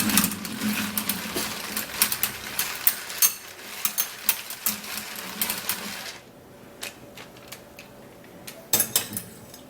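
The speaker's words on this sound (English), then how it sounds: "I'm going to be using my manual mixer to mix this up" A manual hand mixer whisks egg white into yogurt, giving a steady rapid clicking and whirring of gears with quick rattling bursts, close and fairly loud, pausing briefly near the end before resuming.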